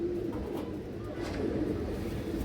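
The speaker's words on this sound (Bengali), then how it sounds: "খাকি নর কবুতর দর্শক এটা" A khaki male pigeon coos softly in low repeated murmurs, close by, with steady faint background hum and no talking.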